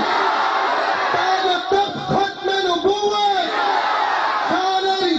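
A crowd at a devotional gathering roars a loud, sustained collective chant in unison in answer to a call, the massed voices swelling and falling across several seconds.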